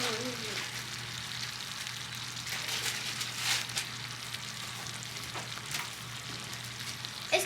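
Candy apple syrup bubbles and simmers in a pot in a home kitchen, a soft, steady sizzling boil with occasional faint clicks and clatter.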